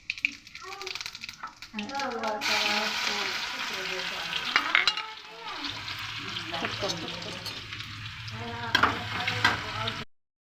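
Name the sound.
mustard seeds and cumin sizzling in hot oil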